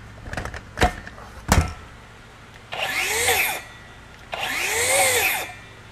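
A Flex FX2141R 24-volt brushless rear-handle circular saw is triggered twice, each time whirring up to a loud whine and then cutting off abruptly as the electronic brake stops the blade, following a few sharp clicks and handling knocks.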